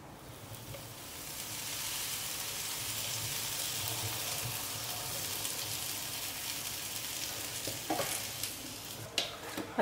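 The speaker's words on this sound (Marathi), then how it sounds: "आतां न्हू हांव म्हाजें हे ब्रेड टोस्ट करता." Buttered bread toasting butter side down in a frying pan for a Goan green chutney sandwich, a soft, steady sizzle that holds evenly, with a few light clicks near the end and no talking.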